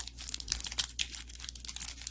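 A Pokémon Cosmic Eclipse booster pack wrapper is torn open in a rapid burst of crinkling foil and tearing, close and fairly loud, with no talking.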